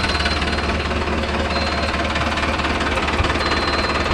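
A Mahindra Arjun Novo 605 DI tractor fitted with a mounted crop cutter runs close by, its diesel engine giving a loud, steady, knocking rumble with a constant mechanical clatter throughout.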